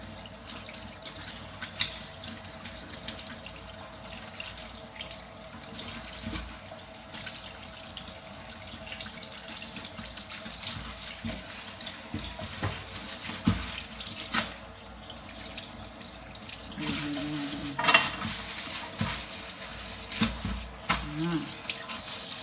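Rice washed in water at a kitchen tap, running water splashing and swishing steadily for a long stretch with small clinks and stirring, moderately close, with a little speech at times.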